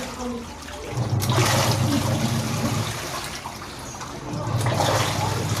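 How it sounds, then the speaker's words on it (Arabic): A Union Air top-load washing machine draws in water, a loud gushing rush that swells, eases off around the middle, then surges again, with a voice faintly present. "الغساله طبعا بتسحب، تشتغل يمين وشمال، شغاله اهي طبيعي زي ما انتم شايفين"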